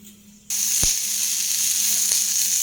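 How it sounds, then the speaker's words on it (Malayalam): Onion and okra hitting a hot pan, a sudden loud sizzle that starts abruptly and holds steady, with a couple of sharp knocks of a spoon against the pan. "സവാളയും വെണ്ടയും നന്നായിട്ടൊന്ന് വഴറ്റിയെടുക്കാം."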